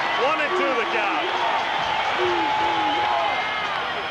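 A baseball stadium crowd keeps up a steady, dense roar of cheering and noise throughout, with a voice talking over it.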